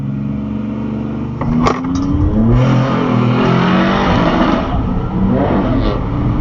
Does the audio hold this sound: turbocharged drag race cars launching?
yes